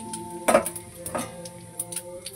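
Bay leaves and whole spices hit hot oil in a pan, giving a soft sizzle broken by a few clinks and stirring scrapes.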